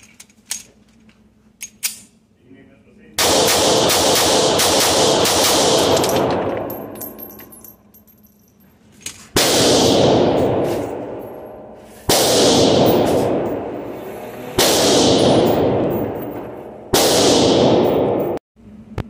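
A Walther PK380 pistol fires at a range in loud, sharp shots, with a rapid string of reports near the start followed by several separate blasts, each with a short ringing decay and quiet gaps between.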